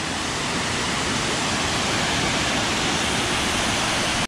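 Kothapalli waterfall roars steadily and loudly throughout, a dense, unbroken wash of rushing water with no pauses until it cuts off at the end.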